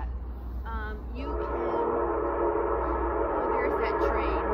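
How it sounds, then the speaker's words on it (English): A train passing at a distance outdoors, heard as a steady rumbling roar with a drawn-out horn blast rising over it, fairly loud and continuous with no talking. "Oh, there's that train."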